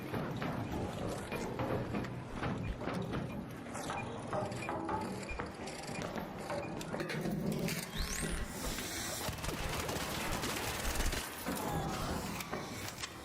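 Gunfire in the video game ARC Raiders: a dense, continuous clatter of mechanical, ratcheting shots and impacts running the whole time at steady loudness, busy and close, with no clear talk over it.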